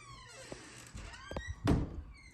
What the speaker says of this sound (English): I can shut the door